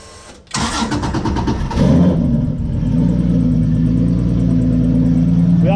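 A turbocharged Honda J35 V6 car engine with a torn wastegate cranks briefly, catches with a loud burst, then settles into a steady, throaty idle that holds close and constant.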